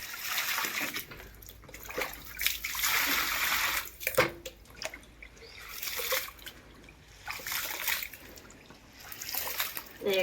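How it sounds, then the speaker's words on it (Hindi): Water trickles and splashes while grain and a strainer are rinsed in an Indian village setting, in uneven bursts of pouring and sloshing, fairly close, with a voice speaking at times underneath. "छन्ने को भी धो देंगे।"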